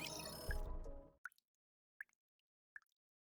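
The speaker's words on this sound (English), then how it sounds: "The sound of water droplets falling." Water droplets falling in a quiet scene from the video game Goddess of Victory NIKKE: three separate plopping drips, each with a small follow-up splash, evenly spaced after a burst of music fades out.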